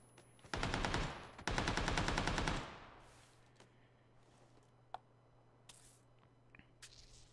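Tommy gun fire in the PUBG video game on Xbox: two dense bursts of rapid automatic shots, loud and close, then a quiet stretch with a few faint distant pops.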